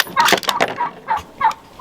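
Several turkeys gobble in short bursts, a couple of loud close calls followed by two separate gobbles, heard outdoors at a rifle range after shooting.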